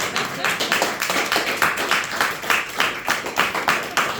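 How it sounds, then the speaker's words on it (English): A comedy club audience breaks into lively applause for a departing comedian. Dense, loud clapping comes in rhythmic waves, with crowd voices mixed in throughout. "give a round of applause"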